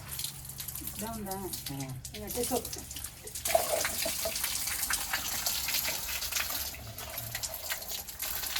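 Water poured over the base of a neem tree, a gushing, splashing flow that runs steadily through most of the stretch, with voices speaking briefly at the start.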